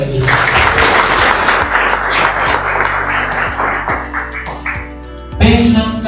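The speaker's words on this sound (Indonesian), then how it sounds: "Oke, tepuk tangan dong sekali lagi." A seminar audience claps together in a dense, sustained burst that tapers near the end before a short louder sound cuts in, with steady background music running underneath.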